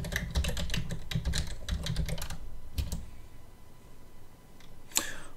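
Typing a search term on a computer keyboard: quick irregular bursts of key clicks for about two and a half seconds, one more short flurry shortly after, then quiet with a single sharp click near the end.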